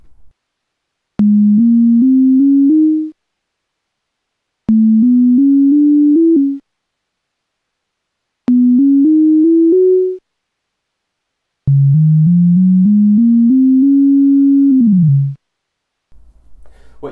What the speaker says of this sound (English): What you just heard was the major scale and transposing it or changing the tonic